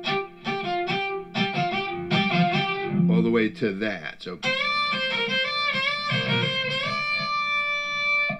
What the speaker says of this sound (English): I programmed a pedal so that I could bring the distortion in gradually and have different amounts.